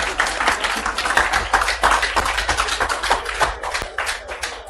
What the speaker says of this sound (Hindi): अब इसमें तालियों वाली कोई बात नहीं है